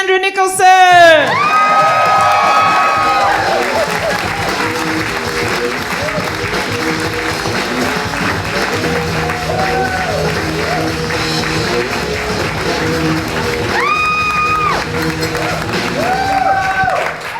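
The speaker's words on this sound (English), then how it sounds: "round of applause for Cassandra Nicholson." Loud audience applause and cheering for comedian Cassandra Nicholson at a comedy course graduation show, sustained clapping with whoops and shouts throughout, plus some voices in the crowd.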